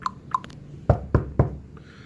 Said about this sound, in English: They knocked on his door.